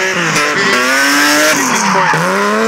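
A drift car with a BMW M-Power engine screams through a corner on track during a qualifying run, engine roaring loud and continuous while the tires squeal and skid, shifting pitch as it slides.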